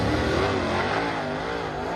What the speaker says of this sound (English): We'll show you some of the Super Late Model qualifying here.